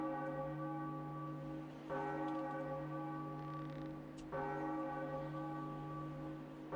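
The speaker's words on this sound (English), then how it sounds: "We use our grappling hook and ring the bell atop the Tower of the Gods." The bell atop the Tower of the Gods in the video game The Legend of Zelda: The Wind Waker tolls twice, each strike a rich, ringing metallic chime with long sustained overtones, clear and alone.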